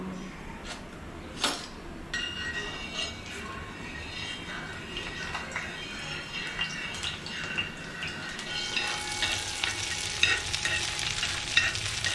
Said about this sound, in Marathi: याच्यात तेल जिरा आणि मिरची आणि कांदा आणि कांदो फोडणी